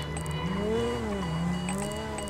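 A vehicle engine in GTA Online hums and swells in pitch as the car accelerates briefly, a steady mid-level drone with no speech.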